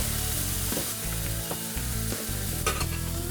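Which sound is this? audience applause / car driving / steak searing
steak searing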